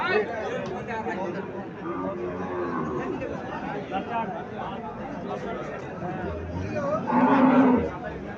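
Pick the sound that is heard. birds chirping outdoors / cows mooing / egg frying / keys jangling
cows mooing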